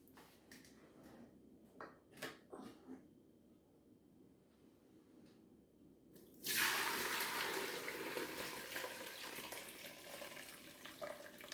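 Beef bone broth dumped from a pot through a fine mesh strainer: faint clinks and handling at first, then a sudden steady rush of pouring liquid that keeps going to the end.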